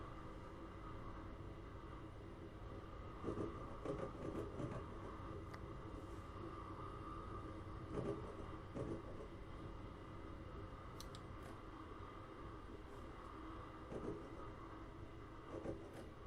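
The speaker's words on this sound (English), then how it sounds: "clacking sound of trains" Amtrak train rolling along the track, a faint steady rumble inside the car with soft intermittent clacks of wheels over rail joints every few seconds.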